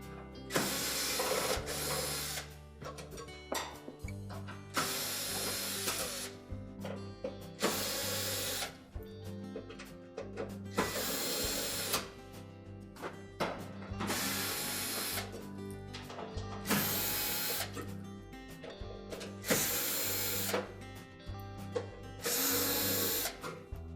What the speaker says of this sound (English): we need to remove 5 screws on either side of that upper back panel